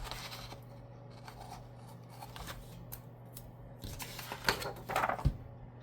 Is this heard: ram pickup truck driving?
no